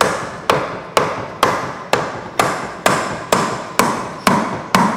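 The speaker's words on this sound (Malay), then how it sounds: "pakai soft hammer dulu" A soft hammer taps on an automatic gearbox casing, eleven evenly spaced dull knocks at a steady rhythm, each with a short ringing decay, close and clear with no talking.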